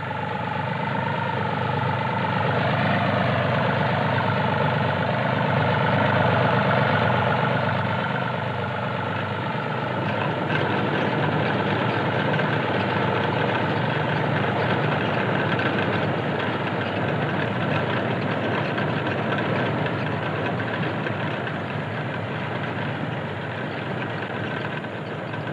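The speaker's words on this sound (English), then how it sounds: "The need for a 90-horsepower four-wheel drive tractor is a clear indication of the difficult conditions" A 90-horsepower four-wheel-drive tractor works a beet harvest in the Fens, its heavy diesel engine droning and knocking steadily throughout, with a tonal whine in the first half that drops away.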